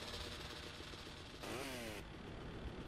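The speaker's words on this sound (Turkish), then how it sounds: "Andreas'taki aynı motor sesi. Demek ki San Sanreas'a oyunun motor sesini değiştirmemişler." A car engine in the GTA Vice City video game drones faintly and steadily, with a brief rising rev partway through, all at a low level.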